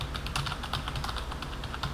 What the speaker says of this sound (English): This is a gaming keyboard from CM Storm, but it's actually membrane,